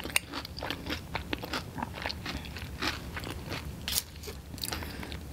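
A crunchy McDonald's hash brown with hot salsa is bitten and chewed close to the mic, giving repeated crisp crunches and wet chewing with no talking.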